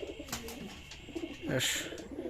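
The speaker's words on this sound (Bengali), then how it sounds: "এই কবুতরটা কিন্তু সেভাবে ডাকে জোর নেই" A pet pigeon giving soft, weak coos, faint low murmurs close by against a quiet background.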